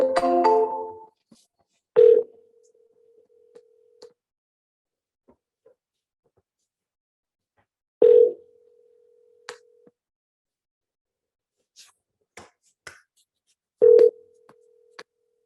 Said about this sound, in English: then we're just going to hit dial